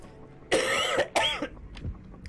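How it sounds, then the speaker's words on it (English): Two harsh coughing bursts from a man recovering from a cold during a PS4 Battlefield 5 beta session, loud and close, followed by quieter throat noises. "I do apologise for the coughing"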